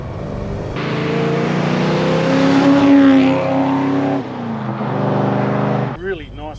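A Ford Falcon engine hums and rises in pitch as it accelerates from inside the cabin, with people talking over it, then cuts off near the end.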